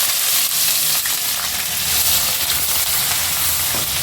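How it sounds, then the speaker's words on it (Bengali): Finely chopped onion fries in oil with cinnamon, cardamom, cloves, peppercorns and bay leaves, a loud, close, continuous sizzle with faint stirring underneath and no voices. "পেঁয়াজটা লাল করে ভেজে নেব"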